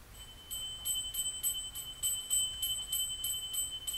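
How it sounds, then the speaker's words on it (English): A small bell rings repeatedly in a steady rhythm, about two strikes per second, with bright sustained tones over a quiet room, heard just before a Latin Marian prayer is sung in Siena. "We often use a bell."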